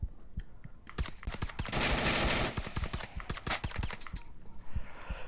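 Rapid gunfire on a VR shooting range, with fast clusters of sharp shots including a sustained automatic burst, close and loud, with no talk.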